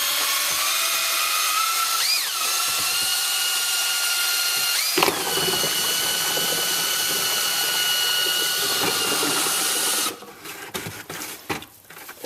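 A Jiffy mixer on a drill churns thick red pottery glaze, a loud continuous whirring drone with brief pitch dips, then sloshing and knocking as the mixing stops near the end.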